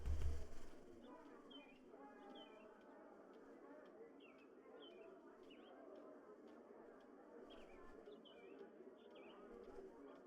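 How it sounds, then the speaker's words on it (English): On a loading screen in the video game Until Then, birds chirp and coo in short repeated calls over a soft steady background hum, faint and somewhat distant, with a brief low thump at the start. "I guess we'll listen to the birds chirp"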